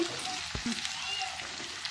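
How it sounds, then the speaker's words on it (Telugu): Chicken pieces frying in a pan with a pinch of salt, a soft steady sizzle with a few stirring scrapes and clicks, faint and close. "రవ్వంత సాల్ట్ వేసుకుని నేను ఫ్రై చేసుకుంటున్నాను"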